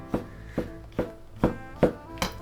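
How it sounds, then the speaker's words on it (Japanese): A knife slices shiitake mushrooms thinly on a cutting board, giving six evenly spaced, crisp taps about half a second apart, close and fairly quiet with no talking. "しいたけは軸を取って マリネとひじき煮に使うので薄切りにします"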